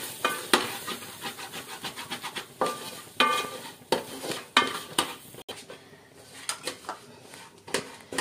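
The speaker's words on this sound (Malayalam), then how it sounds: "എല്ലാം കൂടി നന്നായിട്ട് ഇളക്കി യോജിപ്പിക്കുന്നു" A spoon scrapes and clinks in a pan as pepper-spiced chicken curry is stirred, giving repeated rhythmic strokes over a faint sizzle that soon drop to quieter, scattered scrapes.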